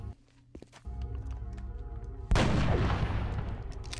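Gunfire from a soldier in the turn-based strategy game XCOM: Enemy Within (Long War mod): a sudden loud burst of shots that rings out and decays into a rumbling tail after a quiet stretch of game ambience and soft footsteps.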